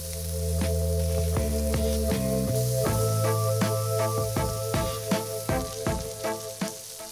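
Beef patties in a hot pan with olive oil, a close, steady frying sizzle with crackles and spatters, under faint background music with a rhythmic beat.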